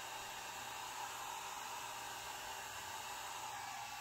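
A hair dryer blows steadily to dry alcohol ink on a black planner dashboard, a constant, even whoosh of air throughout with no talking.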